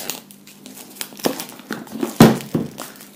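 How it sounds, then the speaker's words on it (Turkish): Scissors open the plastic bag of a Chimera Station board game, close at hand: a run of crinkling, rustling plastic with sharp snips and thunks, loudest in a burst near the end. "Poşetini açacağım."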